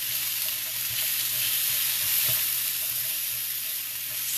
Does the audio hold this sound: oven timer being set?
no